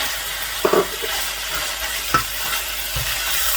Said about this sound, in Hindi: अभी इस मौके पे शिमला मिर्चें जो हैं वो मैं बीच में ऐड कर दूँगा